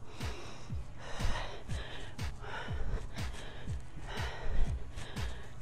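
Heavy rhythmic breathing during a Tabata lower-body workout, with repeated sharp gasps and exhalations roughly every half second and no clear talk.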